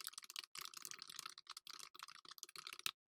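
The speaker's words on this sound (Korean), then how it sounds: "타이핑할게요." Rapid typing on a computer keyboard while entering a title in an Excel 2016 spreadsheet, with close, crisp clattering keystrokes in quick uneven bursts and brief pauses, ending abruptly.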